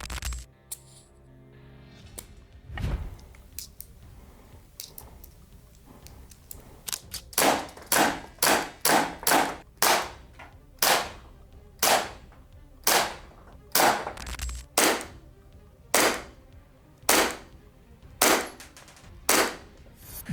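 An Umarex HK45 gas blowback airsoft pistol fires a series of sharp, loud pops with a metallic snap, starting sporadically then settling into a steady rhythm of single shots.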